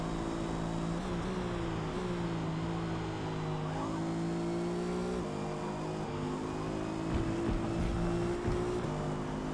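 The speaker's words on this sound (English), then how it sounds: "James, the new Aston is sexy. And it sounds good." New Aston Martin race car in Forza Motorsport, its engine droning and shifting pitch as it accelerates and shifts through gears at moderate level, with no voices over it.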